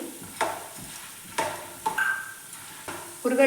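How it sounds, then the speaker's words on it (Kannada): Peanuts and roasted gram are stirred and fried in a pan over low flame, with a soft sizzle and repeated scraping stirs of the spatula at irregular intervals, close and fairly loud. "ಕಡಲೆಕಾಯಿ ಬೀಜವನ್ನು ನಾವು ಚೆನ್ನಾಗಿ ಫ್ರೈ ಮಾಡ್ಕೋಬೇಕು"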